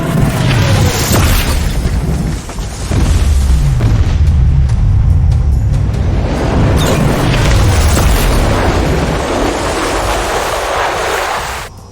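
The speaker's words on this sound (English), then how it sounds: "At the moment the bombs exploded" Bombs explode in a dramatic sound effect, with deep rumbling booms rolling continuously and loudly for several seconds before a long, roaring decay.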